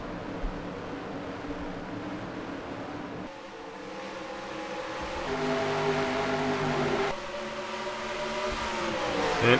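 Simulated race trucks in a racing video game accelerate together off the start at Watkins Glen, a steady layered engine drone that climbs in pitch through the gears and grows louder toward the end.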